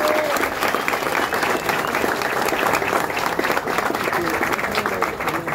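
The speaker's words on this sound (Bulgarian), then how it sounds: "така че малко аплодисменти" Steady applause from a crowd, dense and continuous clapping filling the space throughout, with a voice faintly present underneath.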